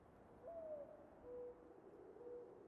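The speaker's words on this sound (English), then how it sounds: "I hear an owl, so we're not in space." Owl hooting in a video game trailer, a few soft, low hoots spaced apart over a faint ambient backdrop, fairly quiet and distant.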